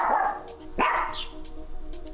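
Dogs bark at close range, a couple of loud barks with a yip, standing alone without talk.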